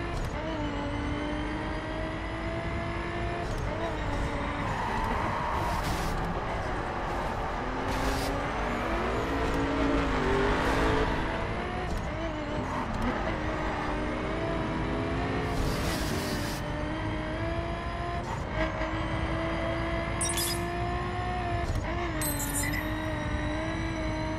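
Race cars in The Crew roar past and rev through gear changes in a continuous, loud engine drone, with occasional tire squeals and sharp clicks over the top.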